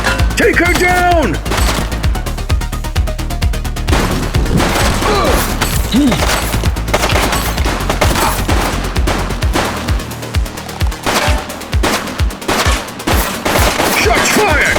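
Rapid gunfire in The Precinct video game, a police game, comes as loud, dense volleys of close shots, a fusillade with repeated sharp cracks and booms that carries on for most of the stretch.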